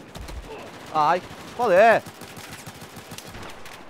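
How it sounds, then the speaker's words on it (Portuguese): Rapid gunfire from a video game rattles steadily in the background while someone shouts and exclaims over it in short, pitch-bending bursts. "Tô tomando tiro do quanto é lado, velho."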